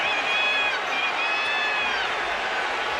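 Basketball arena crowd stirred up by a scuffle after a jump ball, a continuous roar of many voices with a few shrill whistles or shouts over the top and a commentator talking.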